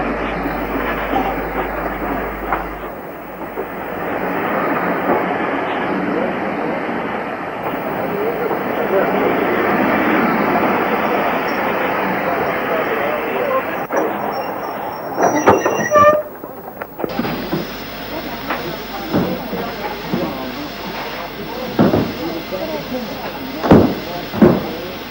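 A GWR-era 264 tank locomotive rolls into the main platform of a station on the Mold to Ruthin line, a sustained rumble of wheels and carriages lasting several seconds, then door clunks and scattered knocks as it stands, with faint talk around.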